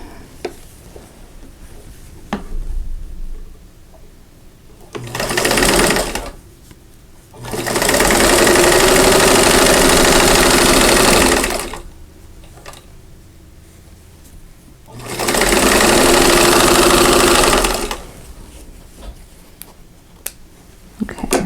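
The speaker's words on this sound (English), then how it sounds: "So I'm going to just pick one of those 2 corners and sew that square on." A sewing machine stitches a square onto a quilt block in three bursts: a short run, then two long steady whirring runs of about four and three seconds, with quiet handling sounds between them.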